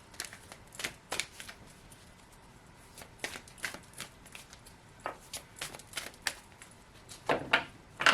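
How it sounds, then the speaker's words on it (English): Astrology cards being shuffled, a run of irregular papery riffles and snaps of varying strength, close and fairly quiet, with no talking. "I'll do some astrology cards."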